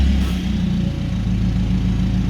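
A BMW car's engine starts up and settles into a loud, steady low rumble close by, with a brief thump at the start and no talk.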